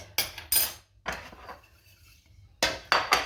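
A frying pan being handled before heating oil, heard as a few close metallic knocks and clatters in short bursts separated by quiet gaps, no voices.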